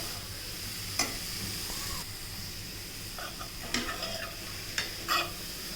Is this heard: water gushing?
no